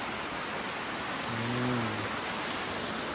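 A forest waterfall pours steadily in the rain, a dense, unbroken hiss of rushing water with a faint brief tonal hum rising briefly partway through.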